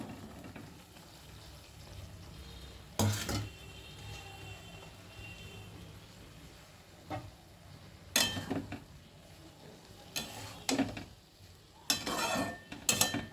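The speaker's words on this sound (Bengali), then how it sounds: "এবার ভেজে রাখা আলু পটল এগুলো দিয়ে দিচ্ছি" Pointed gourd and pre-fried potatoes being stirred into spices in a pan for a mustard-poppy seed dish, with several distinct bursts of scraping and clatter over a low, steady background.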